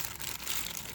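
A plastic bag crinkles while hands mix raw burger meat for spicy chicken smash burgers, a continuous rustling and crackling at close range, alone without talk.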